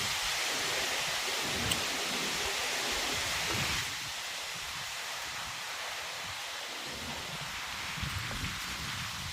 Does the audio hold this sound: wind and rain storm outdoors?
yes